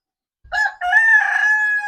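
A rooster crows once, close and loud, beside a chicken coop built from cut tires; the call opens with a short note, breaks briefly, then stretches into a long sustained cry.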